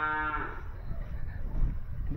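A single cow moos briefly at the start, a short harmonic low call, followed by low rumbling background noise, at a cattle farm on the slopes of Mount Kawi near Malang, Indonesia.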